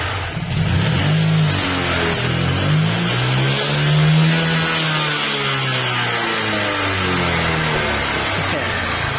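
A small engine, smoking after oil got into it, sputters and struggles to start, then revs up and down repeatedly, loud and close, with a hum running underneath.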